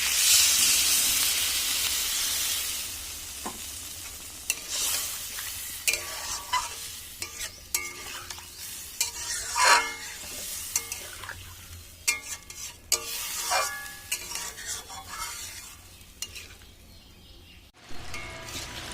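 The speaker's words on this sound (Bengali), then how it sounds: "আমার ডিমটা ভালো করে কষানো হয়ে গেছে, এবার আমি দিয়ে দেবো আমাদের জল।" Water goes into a pan of frying egg curry with a bright hissing sizzle at first. Close, clattering stirring scrapes then continue over a steady simmering fizz.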